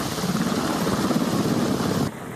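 An air force rescue helicopter flies over an icy mountain search area, its rotor drone loud, close and steady before dropping off abruptly near the end.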